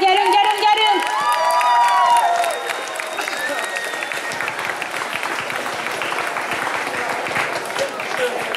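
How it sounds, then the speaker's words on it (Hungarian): Audience applause and cheering at a cosplay show in Pécs, loud continuous clapping with whoops, following a whistle-like tone at the start, with a host's voice over it. "egy nagy tapsot szeretnék kérni mindenkinek, mert tényleg mindannyian megérdemlik"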